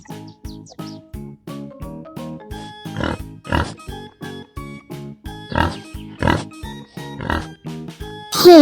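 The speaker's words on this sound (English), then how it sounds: "Pig." A pig oinks and grunts in a series of short, rhythmic snorts heard up close, layered over a steady musical backing beat, with a brief sharp sound effect at the end.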